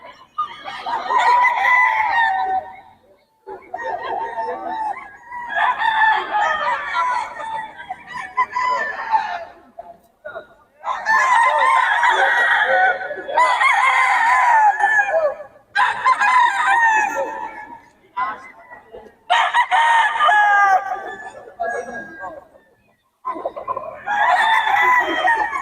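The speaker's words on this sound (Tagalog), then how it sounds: "Quality mga manok nito ni Boss M." Roosters crow loudly and chickens cluck at an open-air market in Bocaue, repeated calls of varying length filling the scene one after another with brief pauses between.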